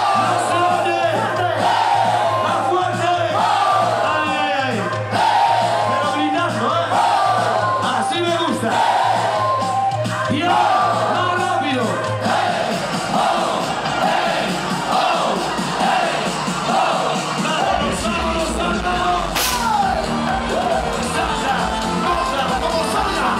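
A large open-air concert crowd of thousands at a summer orchestra show yells and whoops together on cue, a loud, sustained mass of shouting voices with band music underneath.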